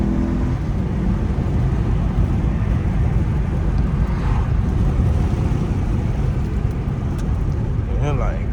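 A 3.2-litre VTEC V6 in an Acura TL Type-S drives along a backroad, its steady engine and road drone filling the cabin loudly and continuously throughout.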